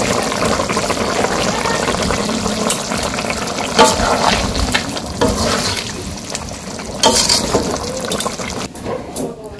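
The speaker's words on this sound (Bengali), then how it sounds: "মাছের তরকারি রান্না করতেছে, কপি দিয়ে, আলু দিয়ে, সিম দিয়ে, মূলা দিয়ে" A fish curry with cauliflower, potato, beans and radish sizzles and bubbles in a pan in a village kitchen, a steady loud frying hiss with occasional stirring scrapes.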